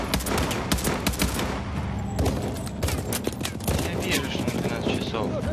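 Rapid gunfire in the Call of Duty Advanced Warfare video game, dense overlapping bursts of automatic fire and single shots crackling continuously near and loud, with a voice talking underneath.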